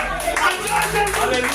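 A congregation at a French-language revival church service claps in steady rhythmic applause while voices call out over it.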